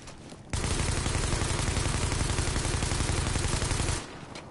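A light machine gun fires a long, sustained burst in The Division video game, a dense rapid stream of loud shots that starts abruptly and cuts off after about three and a half seconds.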